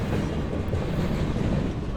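A train rumbles steadily past on the rails, a loud continuous roar with faint rhythmic clatter, close by and without any talk.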